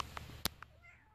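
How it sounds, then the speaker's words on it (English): A domestic cat meows several short times indoors, close and fairly soft, with faint background sound between the calls. "Oh, there's my cat. Why are we meowing?"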